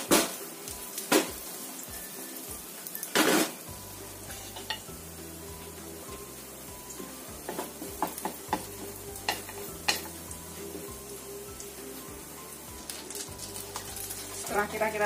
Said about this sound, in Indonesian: Dan kita goreng.